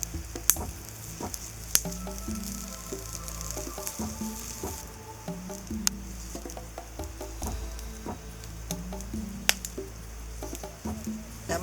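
Mud crabs cook over an open fire, primitive style, with steady close sizzling and frying. Sharp crackles and pops from the fire break through at irregular moments.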